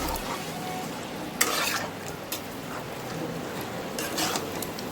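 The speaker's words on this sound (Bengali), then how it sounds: "পেঁয়াজটা খুব ভালো মতো কষিয়ে নিচ্ছি।" Grated onion sautés with chicken in a pan, a soft, steady sizzle with intermittent stirring scrapes and light utensil knocks, fairly quiet and close.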